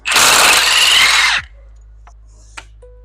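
A power tool undoing the cylinder head bolts on a Cummins ISB 6.7 engine: one loud, close burst of whirring impact rattle about a second long, then it stops, followed by a few faint metallic clicks and taps.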